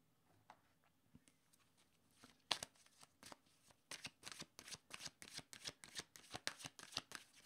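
A deck of tarot-style cards being shuffled close up, starting with a few soft taps and riffles, then settling into a fast, even run of crisp flutters that repeat roughly every third of a second.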